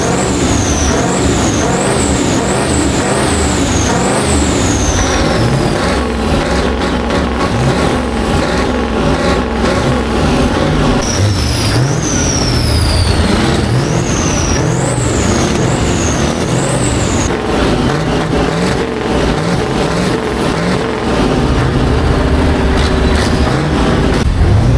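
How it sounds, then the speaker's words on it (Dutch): Heavy truck engines rumble steadily throughout at a truck show in Liessel, with hissing air brakes and high whining tones cutting in now and then amid dense traffic noise. "Tussen deze ronkende motoren van de vrachtwagens"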